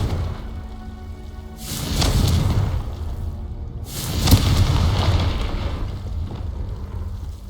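A Confringo blasting spell goes off twice in Hogwarts Legacy, each a loud, rumbling boom that swells and then lingers in a long crackling decay, with a low background ambience between the blasts.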